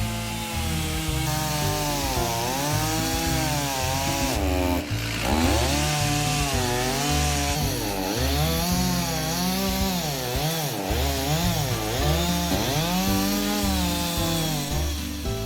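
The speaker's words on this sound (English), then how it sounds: "It's so difficult to cut Zelkova wood vertically with a coarse chainsaw blade." Chainsaw with a coarse blade ripping lengthwise through a heavy Zelkova wood log, the engine droning continuously with wavering pitch as it bogs and revs under load, loud and close with no talking.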